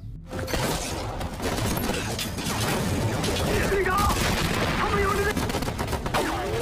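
Gunfire from a film shootout in which a sniper team fires on a gang, a dense continuous barrage of shots and crashing impacts with no breaks, loud and cluttered.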